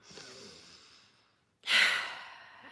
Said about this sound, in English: First of all, take a breath.